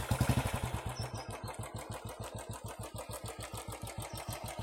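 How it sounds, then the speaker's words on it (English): Classic 350 motorcycle fitted with a shot bottle exhaust idling close by, a steady rapid thumping pulse with a slight throttle lift at the start and no talking. "This is how it sounds in idling."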